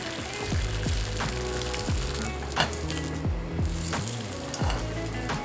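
An egg fries over medium in a pan with a steady close sizzle and crackle. Occasional soft scrapes and stirs break through the hiss, and no one speaks.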